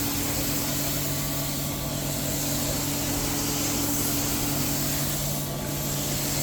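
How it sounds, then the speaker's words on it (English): A Butler carpet cleaning wand making slow, methodical dry passes over carpet, starting against a wall: a steady, loud suction roar with a constant hum, continuous and unbroken throughout, with no talking. "start up against the wall, and start doing my dry passes"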